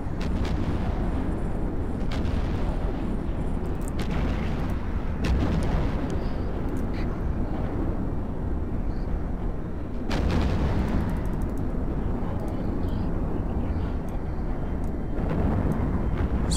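Pirate ships firing on the player's fleet in a space battle in the video game Eve: a dense, continuous roar of booming weapon fire and blasts with a few sharper surges, loud throughout.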